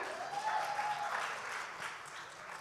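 A crowd applauds steadily at a writers workshop gathering as a woman is called to the stage, a dense wash of clapping that holds at an even level.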